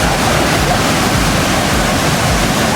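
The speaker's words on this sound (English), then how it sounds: "This is one of the most beautiful waterfalls in all of Bosnia and Herzegovina." A waterfall in Bosnia and Herzegovina pours in a loud, dense, unbroken roar of rushing water, close by and steady, with no voices heard.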